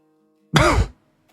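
A single short, rough cough-like burst from a voice, loud and close, mimicking a cough, followed by silence.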